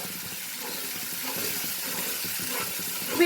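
Ginger garlic paste is stirred into sizzling masala for a duck egg curry, a close, steady hiss of frying with soft stirring scrapes and no talk.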